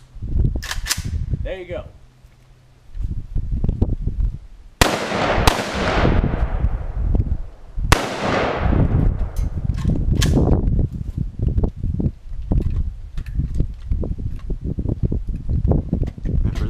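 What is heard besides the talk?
AK-47 firing full metal jacket rounds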